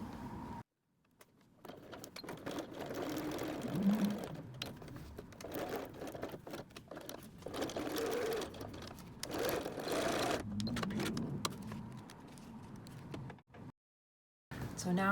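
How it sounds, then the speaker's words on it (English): A sewing machine runs in long steady passes while sewing Velcro onto a messenger bag, close and alone, with brief pauses and a silent gap between runs. "So we're just gonna sew 4 sides."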